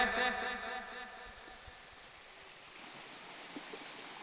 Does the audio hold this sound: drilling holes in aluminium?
no